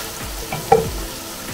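Chicken pieces and mushrooms sizzle in a pan while being stirred, with one brief scrape of the utensil standing out over a steady low frying hiss.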